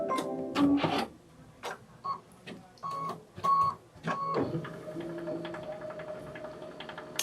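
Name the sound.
sewing machine quilting fabric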